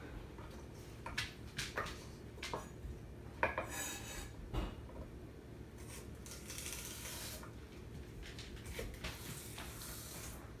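A knife trimming and chopping vegetables on a board for a chicken noodle soup, a series of soft, irregular taps and scrapes at low level with light kitchen clatter.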